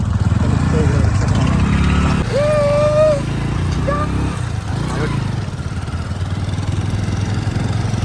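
Engines of a bike and an auto rickshaw running near a rural railway station in Konkan, a loud steady rumble throughout while someone talks over it.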